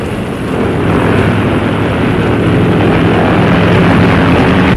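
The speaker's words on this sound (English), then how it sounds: "The United States Army is ready to try the TC-14, largest non-rigid airship in the world" Engines of the TC-14, a large non-rigid Army airship, droning during ascent in 1935: a loud, continuous propeller roar held steady throughout with no voices.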